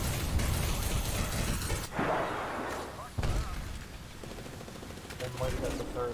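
In a video game firefight, a thrown grenade and bursts of gunfire crack faintly in the distance, with a sharp blast near the middle and another soon after, under quiet background game noise.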